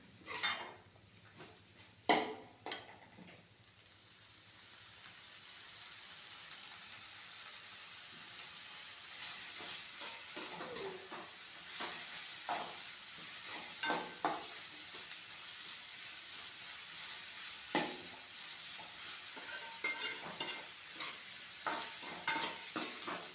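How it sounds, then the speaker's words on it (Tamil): Grated coconut, still partly frozen, sautéed in a pan and stirred with a utensil, soft sizzling and frying carrying on steadily with intermittent scraping and clinks against the pan, fairly quiet and with no voices. "தேங்காயெலாம் நல்லா வதங்கட்டும்."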